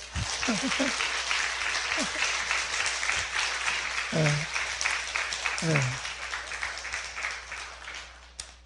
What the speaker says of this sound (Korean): 다 박수 한번 쳐드릴까요?